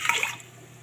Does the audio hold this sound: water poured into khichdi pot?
yes